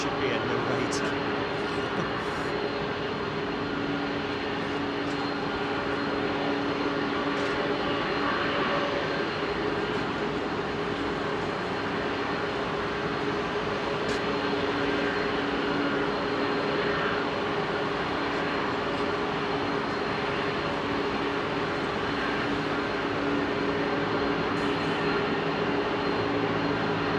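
Jet engines at Heathrow on a foggy day spool up in a loud, steady roar that fills the whole stretch and holds without a break, with a faint voice underneath.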